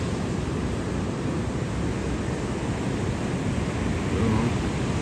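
Ocean waves and surf rolling in steadily, a dense continuous wash of noise close to the microphone with some wind, no talking.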